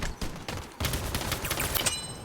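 Rapid, continuous Gatling gun fire in a shooting video game, a loud dense burst of automatic shots with a brief gap near the start, then sustained rattling to the end.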